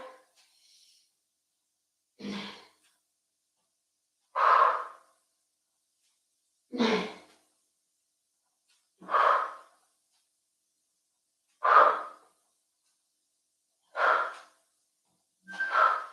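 A woman breathes hard and loudly after a 20-second classic core plank during an abs workout, giving regular sharp exhales spaced about two seconds apart with silence between them, close to the microphone.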